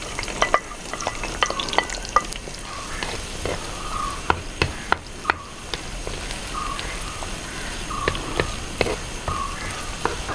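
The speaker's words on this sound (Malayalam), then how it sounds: "അപ്പോൾ എണ്ണ ചൂടായിട്ട് വെളിച്ചെണ്ണ ചൂടായിട്ട് നമ്മളിത് ഉള്ളി അതിലേക്ക് ഇട്ട് കൊടുക്കണം" Chopped onion sizzling in hot coconut oil for a fish curry, with a steady crackling fry and frequent scraping stir strokes of a spoon against the pan, close and continuous, no voices.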